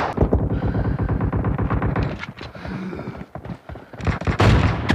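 Rapid bursts of gunfire in the PUBG Mobile battle game, loud, dense volleys with brief pauses, then a fresh heavy burst near the end.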